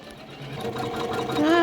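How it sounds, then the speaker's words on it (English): An embroidery machine stitches out fringed letters with a fast, steady mechanical whir and rattling needle rhythm, growing louder toward the end. "Still stitching out over here. We are on the E, and it will be done soon."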